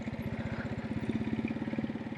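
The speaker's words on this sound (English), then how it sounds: "You got to give it a little gas, keep the engine going." A Janus Halcyon 250 motorcycle engine chugs at low revs through a tight figure-eight turn, a steady close thumping pulse that runs evenly throughout.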